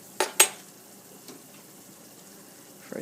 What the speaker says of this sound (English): Adding in the potatoes. Stirring them in.